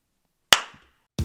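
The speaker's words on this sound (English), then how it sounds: "One clap is what we need." One sharp, loud hand clap rings out with a short decaying echo, followed by the start of another sharp sound.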